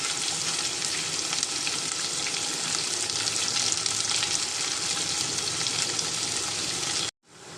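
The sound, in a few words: onion frying in oil with garlic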